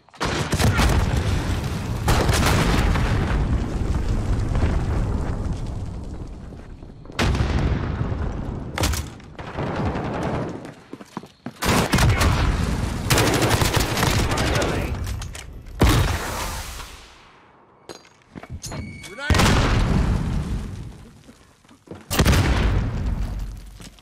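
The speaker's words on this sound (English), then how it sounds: "Allied cruise missile away." Heavy explosions and bursts of gunfire from cruise missile strikes in the shooter Warzone, coming in loud booming waves separated by short quiet gaps, with mechanical clatter between blasts.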